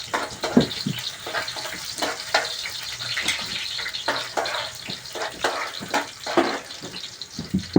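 Garlic, onion and ginger sizzling in a pan with scraping and stirring, a steady moderate crackle throughout.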